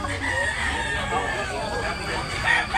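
Rooster crowing amid the bustle of a live chicken market in Tabunok, Talisay, Cebu, a steady, fairly loud call mixed with background voices and clucking, with a brighter crow swelling near the end.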